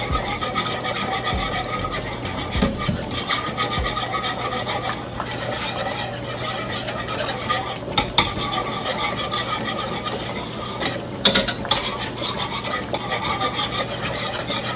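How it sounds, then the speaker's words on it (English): Gravy is stirred steadily in a pan until dissolved, a continuous close rasping, rubbing scrape with a few sharper knocks of the utensil toward the end, no voices. "Then you wanna keep stirring until it's all dissolved."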